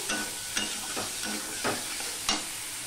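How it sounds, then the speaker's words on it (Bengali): Spice masala for a hilsa fish curry fries in a pan, a soft continuous sizzle with a few louder scraping strokes of a spatula at irregular intervals, and no voices. "দেখো মশলাটা কষানো হয়ে গেছে"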